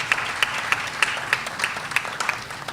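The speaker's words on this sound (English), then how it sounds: "Give them a big round of applause for that." A crowd at a school business-idea fundraiser applauds a donation with loud, close clapping. Crisp individual claps stand out at a fairly even pace over a continuous wash of hands.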